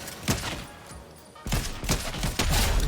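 Rapid gunfire from a Fortnite match, with a few sharp shots, a short lull, then dense overlapping bursts of weapon fire and impacts that are loud and close.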